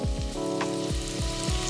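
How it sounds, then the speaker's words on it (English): Vegetables stirred in melted butter in a pan, softening for a chicken breast stuffing: a steady close sizzle runs throughout, with several soft scraping stirs rising over it. "we're going to stir this around with the butter until the vegetables are somewhat softened"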